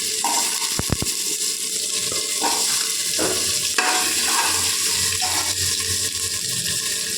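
Ginger paste is stirred in hot oil for a lightly spiced vegetable khichdi, giving a continuous close sizzle with a few sharp scraping clicks and wet stirring sweeps throughout.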